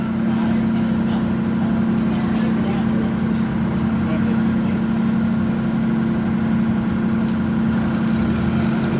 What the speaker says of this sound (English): There's a nice John Deere diesel coming up next.